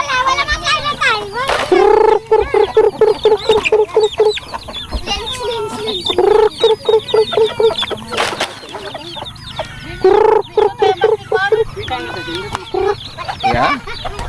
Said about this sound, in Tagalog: enjoy tayo magpakain, no, ng mga manok dito sa ating farm